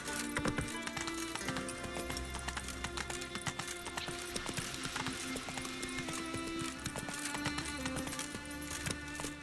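Roach the horse gallops in The Witcher 3, steady rapid hoofbeats clopping under a continuous bed of game music and ambience throughout.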